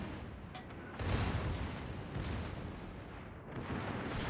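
Naval guns of the Annapolis boom in World of Warships as a dull, distant rumbling roar, with heavier thumps swelling up twice, fairly quiet and without speech.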